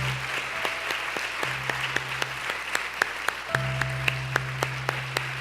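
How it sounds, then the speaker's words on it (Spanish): Applause from a church congregation during a Spanish-language sermon conference, steady clapping filling the room for several seconds with a low hum underneath, no voices over it. "Otra vez dele un aplauso, Señor."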